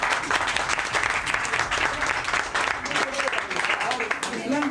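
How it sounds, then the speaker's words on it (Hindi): A room full of children claps loudly and continuously at a Teacher's Day celebration, a thick, energetic burst of applause with scattered voices mingled in. "आप स्वयं अपने लिए ताली बजाएंगे जोरदार"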